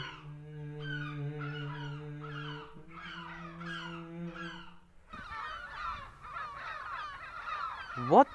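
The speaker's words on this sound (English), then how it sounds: "May have been rudely interrupted by a gang of seagulls" Raucous seagull calls squawk and caw repeatedly at a moderate distance, overlapping in bursts, over a low droning hum that stops midway.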